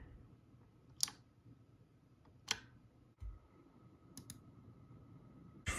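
Quiet mechanical keyboard typing at night, a few sparse sharp key clicks spaced seconds apart over a low steady hum, close and faint.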